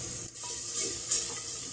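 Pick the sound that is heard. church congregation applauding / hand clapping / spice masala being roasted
spice masala being roasted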